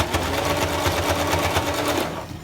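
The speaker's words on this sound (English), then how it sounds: "She's just gonna zigzag right down there." A sewing machine zigzag-stitches a soft headband with a fast, steady, rhythmic clatter close by that runs for about two seconds, then slows and stops.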